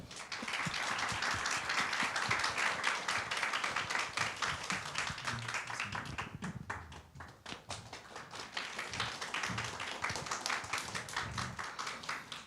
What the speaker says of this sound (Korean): 환영의 박수로 맞아주시면 감사하겠습니다.